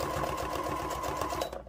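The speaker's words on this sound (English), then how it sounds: "you just stop your sewing machine, adjust it" A sewing machine stitching fabric while making a stuffed moose, running in a rapid, steady mechanical chatter close to the microphone before winding down to a stop.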